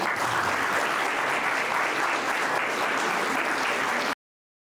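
Loud, continuous audience applause at a farewell ceremony at CTI Ranchi, a thick, even roar of clapping that holds steady before cutting off abruptly.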